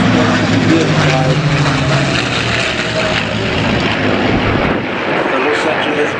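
Vintage propeller aircraft, including one built by North American, fly at the Duxford Flying Legends air show, their engines a loud, continuous roar that fills the whole stretch while a commentator speaks over it.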